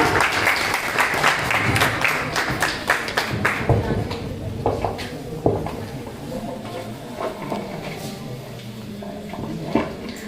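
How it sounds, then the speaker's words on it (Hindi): An audience at a school event at K S Memorial Public School in Ghukna, Ghaziabad, claps to welcome a student speaker, giving a close, steady run of hand claps with uneven bursts that slowly thin out. "एक बार जोरदार तालियों से स्वागत कीजिए"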